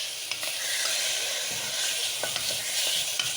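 Chicken pieces sautéing in a pan for chicken and vegetable soup give a close, steady hiss and sizzle, broken by a few light clicks as they are stirred. No voices.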